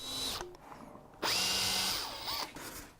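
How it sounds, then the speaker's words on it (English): A power drill bores pilot holes into a wooden scaffold-board table, whining in short bursts that rise and fall with pauses between, close and clear. "Drilling pilot holes in the table ready for the bolts."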